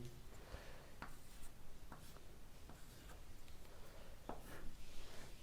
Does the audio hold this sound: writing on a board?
yes